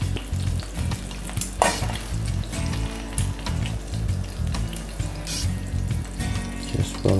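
Bacon fries in a pan with a busy, continuous sizzle and occasional stirring clatter, close and fairly loud, with no voices.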